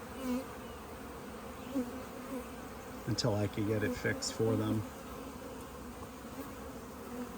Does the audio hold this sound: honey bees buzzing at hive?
yes